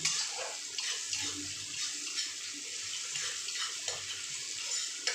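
Slit green chillies fry in hot oil over a high gas flame, a steady hissing sizzle that stays loud and even throughout, with no voices.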